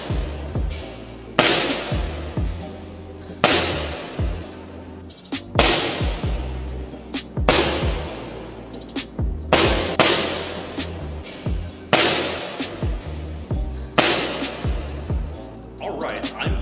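Airsoft pistol fitted with an Acetech Lighter-R tracer unit firing about eight sharp, loud shots at roughly two-second intervals, each crack followed by a brief decaying ring, alone with no talking.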